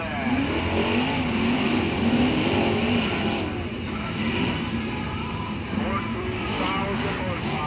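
Sprint cars racing together on the clay dirt oval at I96 Speedway, a dense, continuous engine roar that sits loud and steady throughout, rising and falling slightly as the pack passes.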